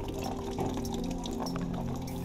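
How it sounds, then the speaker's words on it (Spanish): Rainwater being collected after Hurricane Maria, a steady pouring and trickling of water with scattered drips, continuous and close. "Cogiendo agua de lluvia."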